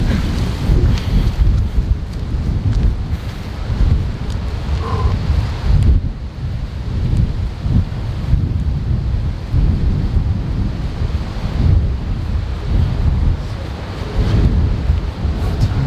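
Strong wind gusting in a sand storm outside a hotel gym, a loud roaring buffet across the microphone that surges and eases in waves throughout, with no speech.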